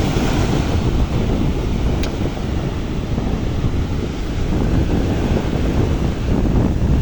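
Heavy sea surf rolls onto the shore at Thalaiyadi beach under strong wind, with loud, continuous crashing and wind buffeting the microphone throughout.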